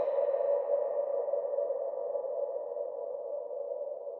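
A cartoonish gnome sound effect from The Long Drive rings out as a steady mid-pitched tone, loud at first and trailing off slowly through a long reverb tail that lingers for several seconds.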